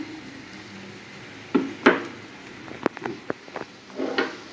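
A lid set onto a cooking pot while making rice pulao with banana flower: a few short metallic clinks and knocks, one sharper clatter, then soft scraping and rattles in a quiet kitchen.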